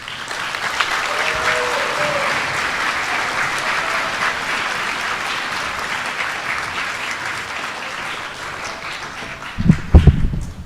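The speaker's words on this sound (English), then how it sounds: "if we can get one more round of applause for our now ninth graders" A school auditorium crowd applauds the newly graduated ninth graders at a middle school farewell ceremony, steady sustained clapping throughout with a couple of louder bumps near the end.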